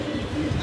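Low, soft cooing from a pair of large fancy pigeons at a pigeon farm, a steady murmur with a brief swell near the end and no voices.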